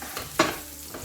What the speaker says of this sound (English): Okay guys, I'm gonna fry this onion here.